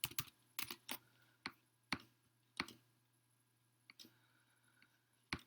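Someone types a search query for fishing hooks on a computer keyboard, producing sparse, irregular clicks and short bursts of keystrokes, close and crisp over a faint steady hum.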